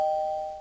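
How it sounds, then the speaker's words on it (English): Doorbell in a Minecraft house sounds one brief, clear electronic ding that rings a steady pure tone and slowly fades. "He's even got a little doorbell."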